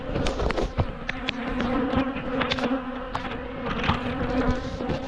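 Angry bees buzz close and loud outdoors, a dense continuous drone with individual bees zipping past the microphone in quick whines.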